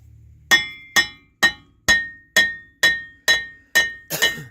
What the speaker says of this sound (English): Then you just take a hammer and you bang it out.